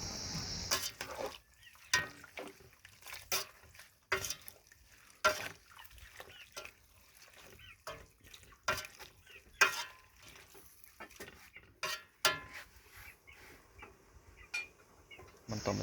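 Water spinach, chicken and spices stirred in a pot, with irregular scraping and clattering strokes of the utensil over a soft sizzle, close and fairly quiet, each stir a distinct knock.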